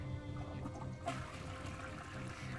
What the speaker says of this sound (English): I heard a flush come from the restroom